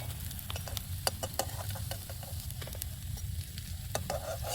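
Steady crackling sizzle of Bombay duck fish balls frying in hot oil outdoors, with occasional pops and the scrape of stirring, fairly quiet and without voices.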